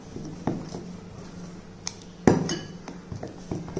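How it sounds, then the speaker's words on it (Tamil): A spoon scrapes and clinks against a bowl while moong dal dosa batter is mixed, with a few sharp knocks and one louder clatter amid softer wet stirring. "இதை நல்லா மிக்ஸ் பண்ணிக்கிறணும்"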